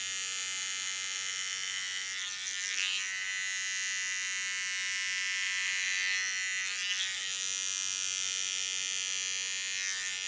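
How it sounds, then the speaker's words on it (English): An electric hair clipper buzzes steadily while cutting hair at the nape, a continuous high-pitched motor hum close up, with the tone shifting slightly as the blade moves through the hair. "you have to be aware of the way you put your clipper into the hairs"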